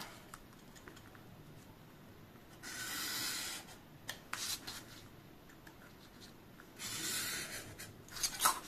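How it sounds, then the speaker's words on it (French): A craft knife drawn along a ruler cuts the inner square out of a paper card, giving quiet scraping and rubbing strokes with two longer, louder rasping passes and a few small taps. "Et vous allez couper le carré intérieur."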